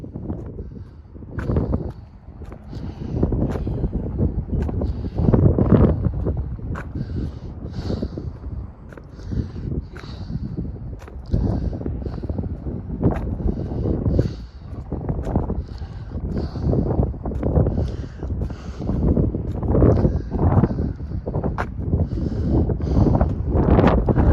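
Breezy wind blowing outdoors during a night walk, a steady rushing noise with buffeting gusts across the microphone and scattered rustles and footstep-like taps throughout.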